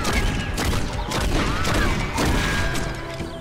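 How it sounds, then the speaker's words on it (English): Rapid, dense gunfire from the Western shooter game Red Dead Revolver, loud overlapping shots and bursts filling the whole moment without any speech. "Please stop shooting me in the ass."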